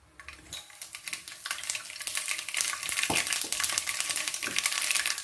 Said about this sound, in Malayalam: നമുക്ക് നേരെ അതിനകത്തോട്ട് 1 ടീസ്പൂൺ കടുകിട്ട് കൊടുക്കാം.